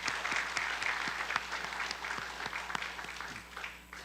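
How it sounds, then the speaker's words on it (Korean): Congregation applause in a church sanctuary after a trumpet worship piece, steady clapping of a moderate crowd that carries on for several seconds, somewhat distant, with a faint low hum beneath. "박수로 격려하겠습니다"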